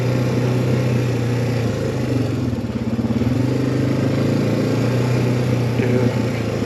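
A 2006 Suzuki Eiger 400 ATV engine-brakes in first gear while riding off-road, its steady mid-pitched engine drone loud and close, with a brief dip and wobble in the middle.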